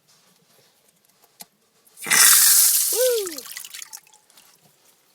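Water gushes back through an opened valve from a cabin into an off-grid spring box, a sudden loud rush that surges for about two seconds and then trickles away, with a voice exclaiming briefly.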